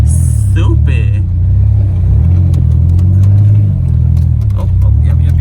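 Car engine revving while driving on snowy Texas roads during a snowstorm, a loud low rumbling drone that swells and eases as the car pushes through snow, close to the listener.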